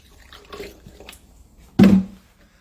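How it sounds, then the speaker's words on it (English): A short splash of water poured into a funnel to rinse it, one brief loud gush after some faint handling sounds, then fading out. "Rinse out the funnel with just a splash of water."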